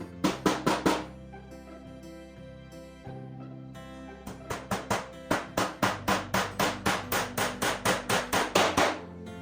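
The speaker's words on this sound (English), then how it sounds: "when you're hammering in the nail, it's not protruding into that groove" A hammer drives small nails into a wooden beehive frame, sharp close taps in quick rhythmic runs: a burst of several strikes, a pause, then a longer steady series of blows.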